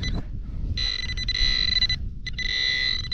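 A metal detector sweeping ground at a former tavern site gives a high, steady electronic tone in two sustained bursts with a short gap, over low rumbling handling and wind noise.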